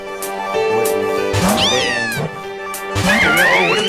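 Litten's cat cry in the Pokemon Reborn game, a synthesized meowing call sounding twice with rising and falling warbles over steady game music, loud and alone.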